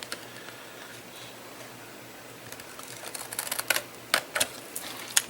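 Scissors snip out the small corners of a scored acetate gift box, giving quiet, close, crisp cutting clicks that start sparse and grow more frequent toward the end.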